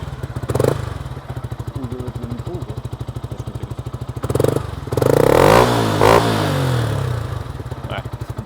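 Yamaha YZF R125 single-cylinder motorcycle idles with a rapid, even thumping pulse, then revs hard to a loud rising roar and falls back to idle, heard up close with people talking over it.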